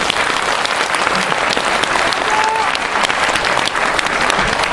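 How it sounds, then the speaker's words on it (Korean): An audience gives sustained, dense applause after a speech by a magazine editor, loud and continuous throughout with no pauses. "여러분 다시 한번 조갑재 편집장님에게 큰 박수 부탁드리겠습니다."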